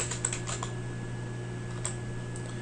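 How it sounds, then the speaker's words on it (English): Keys tap on a computer keyboard while data is entered into an Excel spreadsheet, a few scattered soft clicks over a steady low electrical hum, no talking. "In D4, I want to type in destination."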